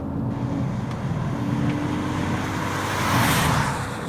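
A Ford Focus ST car driving on a greasy, damp road, heard from inside as a steady engine and tyre roar with road noise that swells slightly toward the end.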